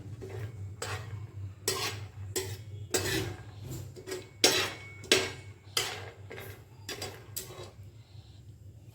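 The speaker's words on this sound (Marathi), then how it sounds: "शेंगदाणे भाजून घेणार आहे" Peanuts dry roasting in a pan, stirred with a metal spatula in repeated irregular scraping strokes over a low steady hum, close but fairly quiet.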